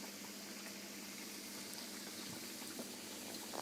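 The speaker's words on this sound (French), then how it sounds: "vous pouvez les plonger directement congelés dans l'huile" Frozen salmon rissoles, a Portuguese speciality, sizzle in hot frying oil with a steady, dense crackle and bubbling hiss, close and continuous with faint pops scattered through.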